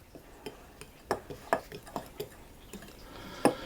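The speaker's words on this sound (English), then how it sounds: "So I've put in the baking powder into the flour, and I'm just going to mix that around." A spoon stirring baking powder into flour in a bowl, producing a string of light, irregular clinks and taps against the bowl, fairly close and isolated with no talking.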